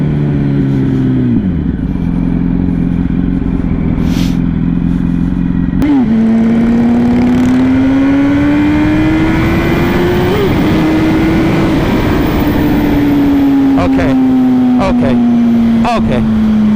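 A 2008 Yamaha R1 1000cc sport bike, heard close up and loud while riding, its engine note rising and falling through revs and gear changes with wind rush throughout and a voice talking over it.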